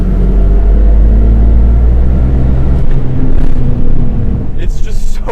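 A turbocharged 1988 BMW E24 635CSi pulls hard in third gear, its loud, close engine rumble droning steadily before easing into rougher, fluttering noise near the end.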